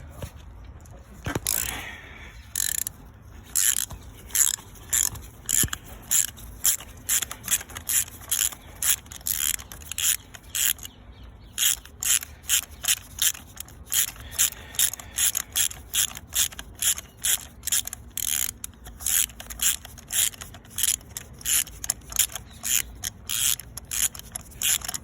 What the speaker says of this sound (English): We need a 16mm spark plug socket. Let's take out these plugs.